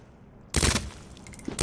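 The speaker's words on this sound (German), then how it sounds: "So ein paar Schüsse ins Gesicht." Gunshots fired into a zombie's face in the Resident Evil 2 Remake video game: a sudden loud burst of several rapid shots, then a short pause and a further shot at the end.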